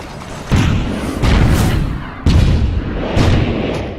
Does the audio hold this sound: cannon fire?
yes